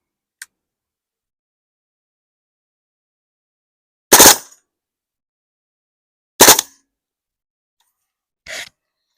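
A Hatsan Blitz air rifle set to full auto fires three separate sharp, loud shots about two seconds apart, each one a short crack with no sustained burst between them, after one faint click at the start.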